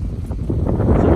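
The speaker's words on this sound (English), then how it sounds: "Today is going to be very interesting because it is super windy today." Strong wind sweeps across an outdoor disc golf course and buffets the microphone in a steady low rumble that swells slightly toward the end.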